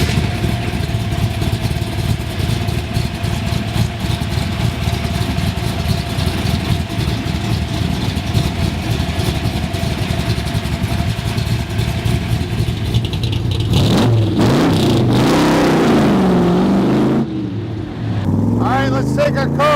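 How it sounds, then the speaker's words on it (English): 1965 Shelby Cobra replica with mufflered exhaust, rumbling at a deep steady idle up close, then revving and pulling away with a rising, wavering engine note toward the end. "Love the sound of the exhaust. It's got awesome mufflers on it."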